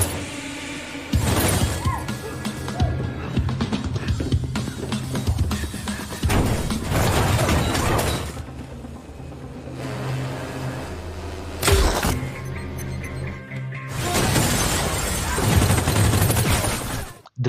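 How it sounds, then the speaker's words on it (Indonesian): Explosive rounds fired from drones smash into bulletproof glass during a film action scene, a long run of loud, dense crashing and shattering in several heavy bursts separated by brief lulls. "Drone tersebut akhirnya menembakkan peluru peledak untuk menghancurkan kaca anti peluru mereka."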